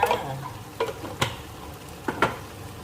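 Pork stir-fried in a pan with a little sugar for a spicy pork and eggplant dish: a soft steady sizzle broken by several quick scraping strokes of a spatula, close up.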